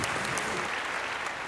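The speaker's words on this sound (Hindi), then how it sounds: "तालियां।" A game show studio audience applauds in a steady, dense wash of clapping throughout, loud and close.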